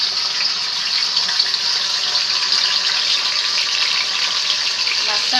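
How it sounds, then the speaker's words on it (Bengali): Pieces of Nilotica fish fry in hot oil over a medium flame, giving a steady, close hiss and crackle that holds at an even level throughout. "মাছটা আমরা হালকা ভেজে নিব।"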